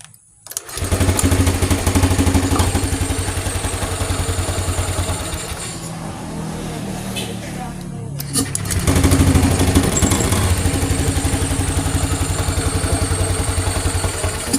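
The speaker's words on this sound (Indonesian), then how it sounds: "kini kita coba nyalakan motornya" A Honda Beat Deluxe scooter with a weak oil pump and seepage starts up and settles into a steady, close idle, with a rapid throbbing putter that dips briefly before returning at full strength.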